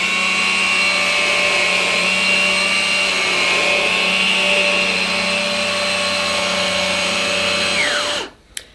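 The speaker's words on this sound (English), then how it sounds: "The powerhead motor has a much higher pitched tone" A Henry Quick corded vacuum cleaner's powerhead motor runs with a loud, steady high-pitched whine, close and continuous, then winds down abruptly near the end.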